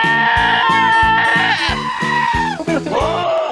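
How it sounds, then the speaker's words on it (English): Several silly goats bleat in quick succession, loud and close, their wavering nasal cries overlapping one after another with no talk. "Chris, find some silly goats on YouTube and play them now"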